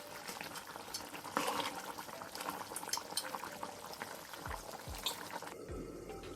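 Kidney beans boil hard in a pot on the stove, a steady dense bubbling and rolling across the whole clip, with a few low knocks near the end as oil heats nearby for frying plantain.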